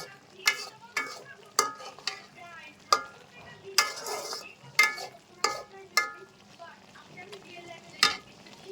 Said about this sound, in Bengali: ঢেঁড়সটা কষিয়ে নিচ্ছি